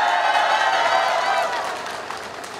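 A street-side campaign rally crowd for a National Assembly candidate breaks into loud applause and some cheering, steady at first, then thinning out as it fades.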